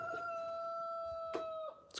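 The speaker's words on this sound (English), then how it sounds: "I picked up a couple new roosters yesterday." A rooster crows in one long, drawn-out call lasting well over a second, fairly close and clear over quiet background with a few soft knocks.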